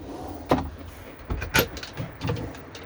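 A drawer slides open inside a Carthago superlightweight i141 motorhome, giving a few short close sliding and clunking rolls with small knocks in between.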